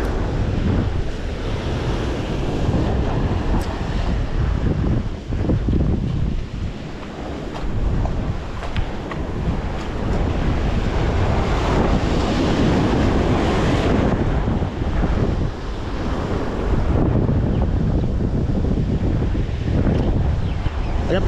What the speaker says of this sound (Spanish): Ahí viene la primera olita, tenemos que estar abusaditos.